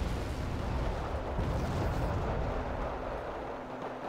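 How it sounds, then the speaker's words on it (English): Mortar fire and rumbling artillery blasts in a video game tournament match, a dense continuous barrage of booms and low rumble throughout, fairly loud and steady with no talk. "Looks like it's firing on Firestarter's mortar."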